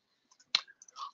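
A computer mouse clicks once, sharp and close, on a software Save button. A few faint small clicks come just before it and soft handling noises follow.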